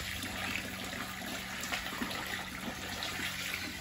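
Water splashing in a swimming pool, a steady nearby mix of sloshing, trickling and small splashes with faint hum underneath.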